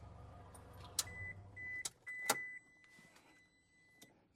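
Electric side mirrors on a 2015 Toyota Innova fold in automatically on locking, giving a faint, steady motor whir of a couple of seconds with a few sharp clicks and beeps in a quiet setting.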